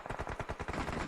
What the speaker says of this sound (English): Gunshots being heard left, right and center.